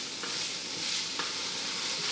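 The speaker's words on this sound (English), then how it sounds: "I'm going to saute these until they get soft" Carrots sautéing in oil in a pan for a chipotle chicken corn chowder, a soft steady sizzle with faint stirring clicks, moderately quiet and continuous with no talking.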